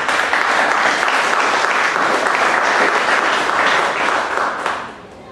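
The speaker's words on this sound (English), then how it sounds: "Let's give our clap to the Lord Jesus" Congregation at a Sunday preaching service clapping for the Lord Jesus: loud, dense applause from many hands, steady throughout, then dropping away quickly in the final second.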